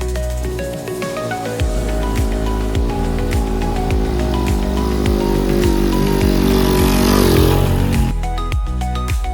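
A motorcycle engine runs steadily at close range, its low rumble constant, with a brief rise in revs near the end.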